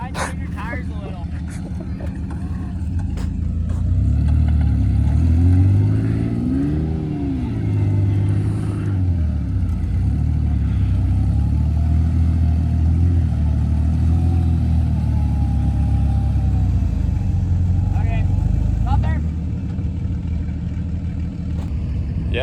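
A vehicle that has dropped into a hole and is stuck on a flooded trail revs its engine repeatedly, the pitch rising and falling in strained bursts over about twenty seconds while people talk nearby.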